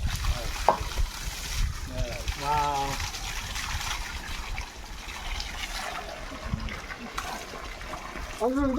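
Steady rushing of spring water runs throughout, a continuous gush close by, with people talking intermittently over it.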